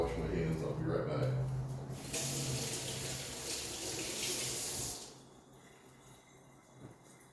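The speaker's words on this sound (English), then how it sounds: "then I gotta wash my hands" A kitchen tap runs into a sink during hand washing, a soft hissing water stream that fades out after about five seconds, with a brief quiet splash later.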